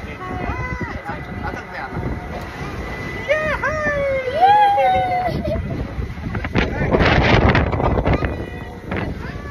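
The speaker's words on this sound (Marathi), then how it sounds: "मित्रांनो ही जी बोट आहे ना ती अशी टर्न होते बघा." A theme park boat ride swings around on its track, with water churning and wind rushing past and rising splashes toward the end, as people shout and talk close by over it.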